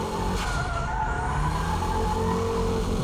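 Car tires squealing and skidding through a braking drift on a wet track, one continuous loud screech with the engine droning underneath, close and unbroken.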